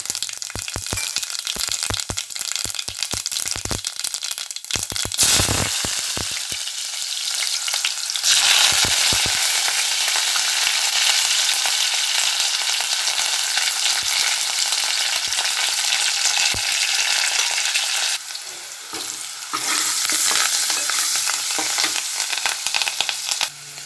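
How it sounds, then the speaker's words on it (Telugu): Mustard seeds and cumin fry in hot oil for a home-cooked curry, giving a loud, steady sizzle with crackling bursts early on that settle into a dense, continuous hiss, heard alone without talk. "ఆవాలు జీలకర్ర వేస్తున్నానండి"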